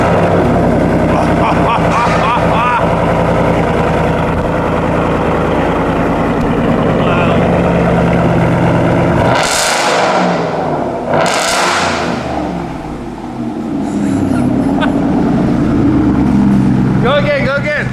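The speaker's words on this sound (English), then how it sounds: "we can say this is sort of a cold start because the truck's been sitting for about an hour and the pipes are cold" A Ford F150 fitted with a Borla ATAK exhaust cold-starts after sitting for an hour, its loud, rumbling exhaust idling and revving, with two sharp bursts midway and voices talking over it.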